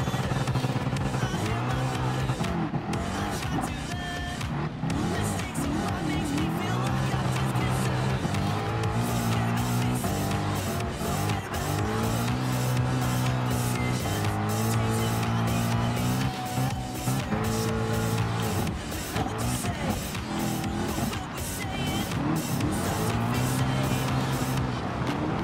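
Rally cars race off-road in Gran Turismo Sport, engines roaring loudly and steadily throughout, with repeated tire squeals and skids as they slide through the course.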